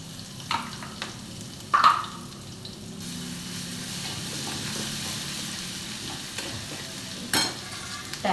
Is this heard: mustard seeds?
yes